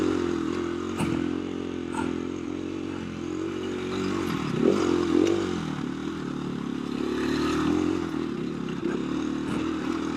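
A KTM 350 or TTR dirt bike crosses rough desert terrain with its engine droning steadily and rising and falling as the throttle changes. Clattering knocks from the bumps come through, and the sound stays close and loud throughout.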